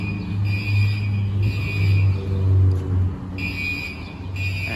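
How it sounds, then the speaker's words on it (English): Gentex fire alarms sound from a building on Connecticut Avenue in Washington DC, a distant high tone pulsing on and off in long cycles over low traffic rumble outdoors. "apparently I hear some Gentex fire alarms going off"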